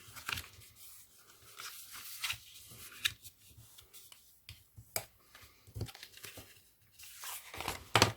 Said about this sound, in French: Maintenant, avec mon plioir, on va marquer tous les plis.